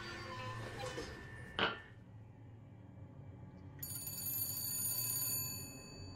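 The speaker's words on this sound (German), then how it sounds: "Oh, Telefon." A bright, metallic ringing trill starts partway through and continues steadily, loud over a low background murmur, like an old bell-style phone ringing, in the video game Bioshock Infinite.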